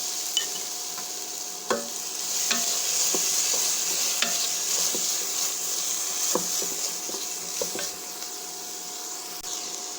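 Sundakkai (Solanum torvum) berries stir-fried in a pan for fried rice, a steady sizzle with repeated scraping and clinking stirs of the utensil against the pan, close and fairly loud, no voices.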